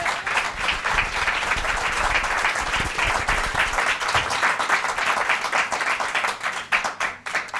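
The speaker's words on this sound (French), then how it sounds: "Je vous demande d'applaudir Monsieur Nico." A studio audience applauds steadily during a French televised talent show, a dense wash of clapping that holds at full strength and thins slightly toward the end as a host welcomes a performer.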